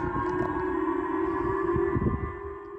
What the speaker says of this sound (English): Sirens blare in northern Japanese island of Hokkaido.